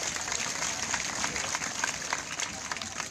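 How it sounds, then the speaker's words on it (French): An audience at a school project launch in Keur Samba Kane, Senegal, applauds in a steady, moderately distant wash of clapping that lasts a few seconds, with some voices under it. "Vos applaudissements s'il vous plaît."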